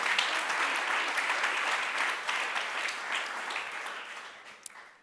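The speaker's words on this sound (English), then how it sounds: "I think the clapping already answers" An audience at a humanitarian innovation pitch event claps in a dense, steady wash of applause that holds level for several seconds, then fades slightly toward the end.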